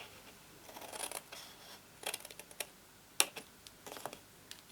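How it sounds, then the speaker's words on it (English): Scissors snipping through scored card stock while mitring the tab of a snowman card box, a series of quiet, crisp cuts in irregular bursts, close and alone. "now I'm going on to the tab part and I'm cutting off a mitre"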